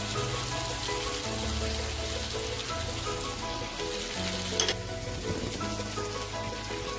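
Prawns (galda chingri) go into a Bengali curry masala with potatoes frying in a pan, a continuous close sizzle and bubbling crackle with one brief sharp clatter midway.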